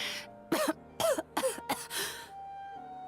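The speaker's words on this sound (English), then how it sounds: "If it makes you cough like this." Character coughing in Genshin Impact, a series of five or six harsh, close coughs in quick succession over about two seconds, ending in a throat-clearing rasp over faint background music.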